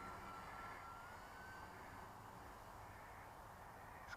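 A Radiolink A560 RC airplane at full throttle, its motor giving a steady, faint droning whine that stays even and continuous from start to finish, heard alone without voices.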